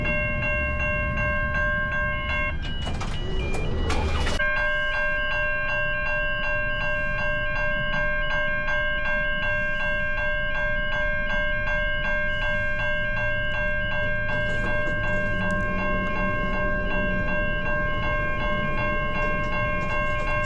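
A train rolls past a level crossing with a loud, sustained mechanical roar, steady warning tones ringing throughout and a brief burst of horn or rumble early on, all close and without talk.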